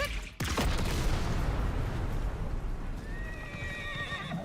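A horse in the video game Beast of Reincarnation, loud neighing and clip-clopping hooves over a busy rumbling game soundscape, with a sharp burst at the start and a rising whinny near the end.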